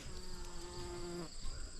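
Bee buzzing around Mexican sunflowers in a country garden, a steady tonal drone close by that drops in pitch and fades near the end, with faint insect hum behind it.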